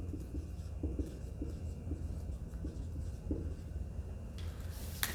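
Pen scratching out a molar mass figure for a gravimetric stoichiometry problem, a few short soft strokes over a quiet room hum, ending in a brief louder scrape.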